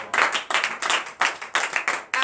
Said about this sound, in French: donnez une vive acclamation à l'Éternel